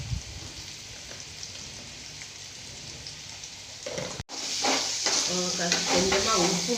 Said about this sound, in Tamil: இந்த எண்ணெயிலேயே நல்ல பாதி நல்ல முருகலாக வெந்துக்கிட்டு இருக்கு.